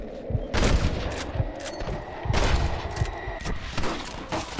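Rifle shots crack amid a chaotic gunfight in Red Dead Redemption, a string of loud, irregular reports and echoing booms over a busy background of battle noise.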